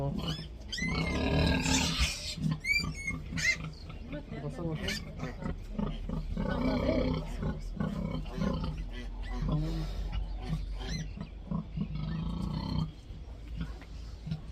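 Pigs and piglets grunting and squealing loudly at feeding time on a farm, a dense, continuous noisy chorus close by, with someone talking over it.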